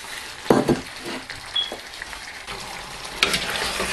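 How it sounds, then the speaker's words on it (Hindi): Previously fried chicken added to masala frying in a pan, with loud sizzling bursts as pieces drop in, followed by stirring scrapes over a constant fry. "अब हम चिकन ऐड कर रहे हैं जो हमने फ्राई करके रखा था"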